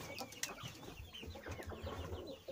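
Chickens and roosters cluck in a coop, a steady chatter of many birds with one brief sharper call early on, fairly faint and without talk.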